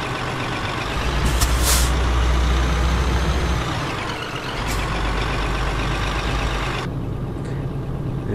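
A Scania truck in a driving simulator game, its steady diesel drone broken by sharp bursts of air hiss as gears change, loud and close with no talking.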